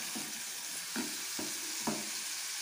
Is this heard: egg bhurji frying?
yes